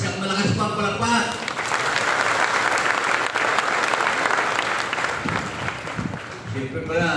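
A crowd gives Mayor Omeng Ramos loud, sustained applause at a DSWD cash assistance event, dense clapping lasting several seconds with voices briefly audible at the edges.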